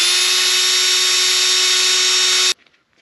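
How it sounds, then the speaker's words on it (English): A power drill whines steadily at high speed for a couple of seconds, spinning a part from a 1939 Caterpillar D4 pony motor against steel wool, then cuts off abruptly, leaving quiet scraping. "I got this chucked on a drill."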